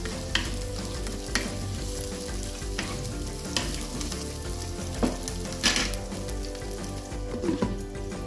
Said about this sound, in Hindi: इसको अच्छे से मसालों में भून लेते हैं।